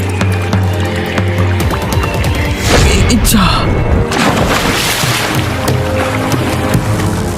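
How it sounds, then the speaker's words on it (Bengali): A cartoon boat cracks in two and sinks into the water, with a loud booming crash and churning splashes under a brief spoken word and background music. "আমার নৌকাটা যে দুখণ্ড হয়ে ভেঙে জলের মধ্যে তলিয়ে গেল।"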